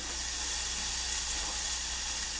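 Bacon fries in a pan toward crispness, giving a soft, steady hiss and sizzle that runs evenly throughout at low volume, with no one speaking.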